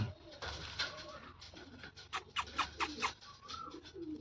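Pigeons coo in a series of soft, rhythmic calls close by, heard alone in a quiet setting with faint background noise.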